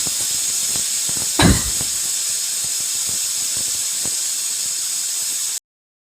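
A pressure cooker cooking toor dal with turmeric, drumstick pods, salt and water lets out a loud, steady hiss of steam, with one brief low thump, before cutting off abruptly.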